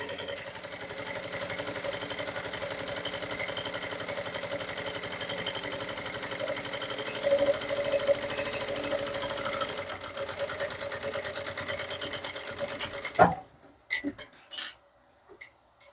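A sewing machine stitches a bag strap in a steady, fast, continuous whir that runs for most of the time, then stops and is followed by a few handling clicks and knocks.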